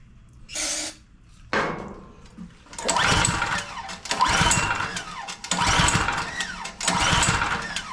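Murray pressure washer small engine being pull-cranked after a squirt of carb cleaner with the choke on, several rough mechanical bursts of cranking spaced by short pauses, loud and close, failing to catch and run.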